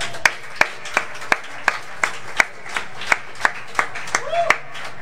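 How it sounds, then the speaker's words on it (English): Rhythmic clapping at a live didgeridoo performance at Szimpla Kert in Budapest, sharp evenly spaced claps roughly twice per second, loud and close, with a brief voice near the end. "So a big clap for Vera."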